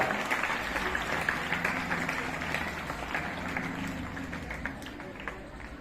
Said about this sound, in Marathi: किमान मोठ्याने टाळ्या वाजल्या पाहिजे